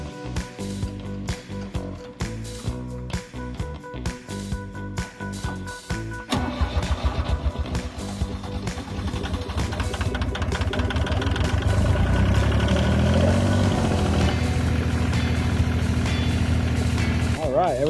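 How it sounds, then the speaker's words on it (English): A Yanmar tractor diesel engine cranks for several seconds, catches around the midpoint on a true cold start after two weeks unused, and settles into a loud, steady, knocking idle close by. "Now we're going to start the machine up and check for leaks."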